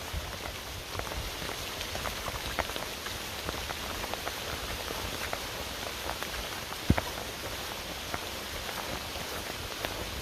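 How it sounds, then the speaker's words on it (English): Steady rain patters densely on leaves and the forest floor while walking in the woods, an even, close hiss of drops that fills the whole stretch with scattered louder taps. "Oh, now the rain increased, so I'm having my head over the phone now, trying to protect it a bit."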